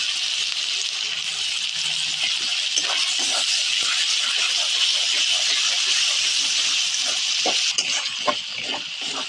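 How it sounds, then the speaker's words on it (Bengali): Onions fry in a pan with whole cumin, dried red chilies, bay leaves and ginger-garlic paste. A steady, bright sizzling hiss runs throughout, with a few faint crackles and no talking. "পেঁয়াজটাকে খুব কড়া করে ভাজবো না"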